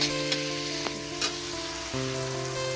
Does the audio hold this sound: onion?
yes